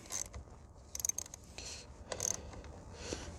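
Ratcheting clicks from tightening a car battery terminal on a Hyundai Veloster, short quiet bursts of mechanical clicking spaced apart, close up against a faint background.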